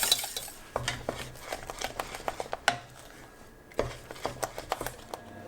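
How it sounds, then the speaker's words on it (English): A wooden spoon stirs a thick cashew mixture in a pan over low heat, giving soft, irregular knocks and scrapes against the pan at close range with no talking. "Then I'm going to cook it on a low heat and stir with my wooden spoon, making sure that it doesn't stick at the bottom."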